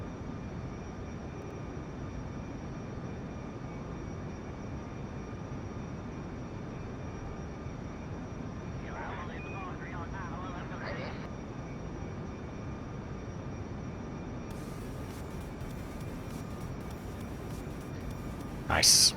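A plane's engine drones as a steady, low, even hum in Kerbal Space Program played with an aircraft-purpose mod, sounding fairly faint and continuous, with a voice talking over it.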